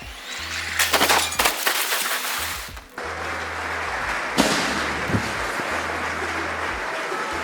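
Staged explosion of a Generation 1 Tesla Model S during an AXA insurance crash demonstration: a burst of crackling, firework-like bangs, then a sudden loud blast followed by sustained roaring rumble and hiss, close and loud with no talk.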